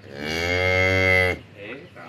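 A single long, loud cow moo, steady and harmonic, lasting over a second near a farm where cattle are being fed, followed by quieter low rustling.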